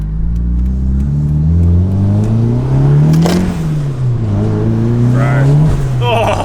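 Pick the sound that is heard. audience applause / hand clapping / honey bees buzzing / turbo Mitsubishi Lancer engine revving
turbo Mitsubishi Lancer engine revving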